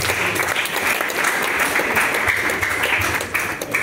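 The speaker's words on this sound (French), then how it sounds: "Acclamons Jésus-Christ." A church congregation applauds steadily and loudly during a prophecy service, dense sustained clapping filling the space without a break from start to finish.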